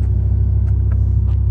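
A 2006 BMW M6 with a 10-cylinder engine idling close by, giving a loud, steady low rumble with a few faint higher clicks over the top.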